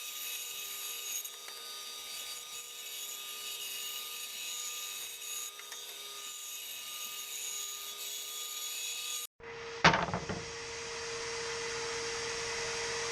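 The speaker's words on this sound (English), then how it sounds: "I took a belt sander to the edges of the forms to get the shapes good enough for government work" A belt sander grinds along the edges of the wooden forms for a wood strip kayak, a steady broadband whir for several seconds, then a sharp knock followed by a rising, harsher abrasive roar.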